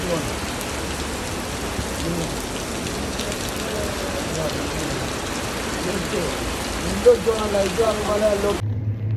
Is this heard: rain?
yes